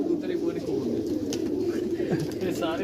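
Pigeons coo softly on a rooftop in Barnala, Azad Kashmir, with low throaty calls rolling on through the whole stretch while someone talks nearby.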